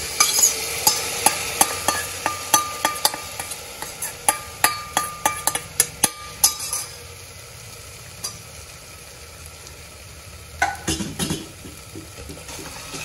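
Soaked jowar grits and dal get stirred into a sizzling tempering for jowar kani khichdi, with a spoon knocking sharply and rhythmically against the pan at close range, then a softer sizzle and a few clatters near the end.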